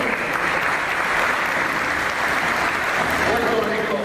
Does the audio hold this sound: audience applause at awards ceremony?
yes